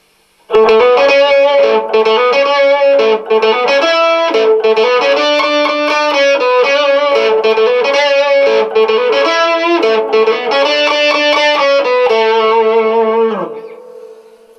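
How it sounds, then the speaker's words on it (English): A sustained, distorted electric guitar lead plays a melodic run with effects, loud and continuous, ringing out and fading at the end. "So the normal guitar lead would be like this."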